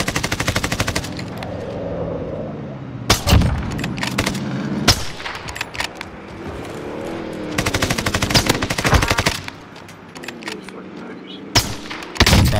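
Rapid bursts of assault rifle fire in a first-person shooter video game, several loud automatic volleys cracking out in clusters with pauses between, mixed with game effects and voices talking over the action.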